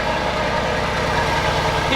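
A Ferrari engine idles steadily after a cold start, a loud, continuous low rumble close by with no breaks.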